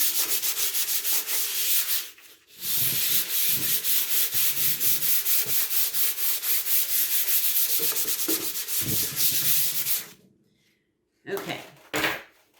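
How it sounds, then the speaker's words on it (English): Wood being rubbed with 320 grit sandpaper in quick back-and-forth strokes, a close, continuous scratchy swishing that stops briefly near two seconds, then resumes and ends with a short final burst. "so I've got a 320 grit sandpaper, and I'm just going to sand over everything"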